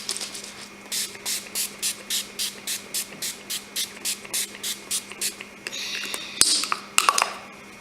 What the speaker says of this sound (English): Then I'm going to spray my face down.